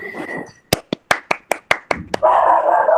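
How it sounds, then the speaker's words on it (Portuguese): Eight sharp, evenly spaced hand claps ring out close by for someone named Rayane at a Portuguese-language online gathering, bracketed by talking before and a burst of broader noise after. "Palmas para a Rayane"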